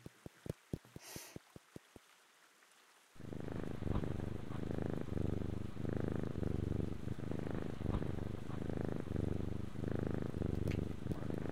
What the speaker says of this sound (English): Terrifying sounding cat.